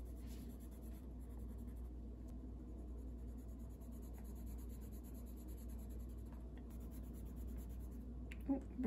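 Arteza Expert colored pencils scratching across paper as color swatches are laid down, a soft steady scraping texture over low room hum, near and continuous, no talk.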